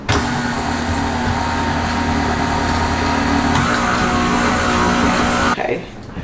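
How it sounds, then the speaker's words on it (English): An electric mixer whirs in a steady, even drone while blending flour and ground cinnamon into a smooth mixture, then cuts off abruptly near the end. "I'm going to mix that until it's nice and smooth."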